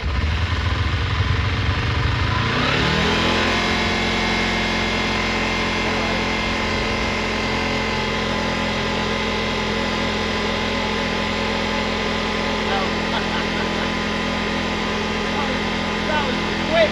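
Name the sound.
Kawasaki Eliminator EL 250 motorcycle engine starting and revving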